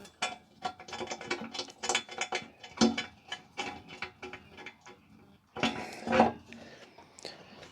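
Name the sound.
ratchet tightening bolts on Big Block Chevy 454 build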